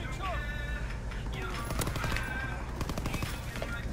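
Rapid bursts of PPSh-41 submachine gun fire in the online shooter Call of Duty WWII, dense and continuous over a busy battlefield mix with voices talking underneath.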